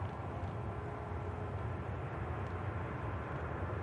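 TUI airliner taxiing at Manchester Airport, a steady low distant engine drone and rumble, faint and continuous with no voices.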